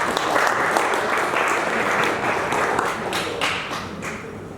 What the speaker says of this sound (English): Please give him a nice,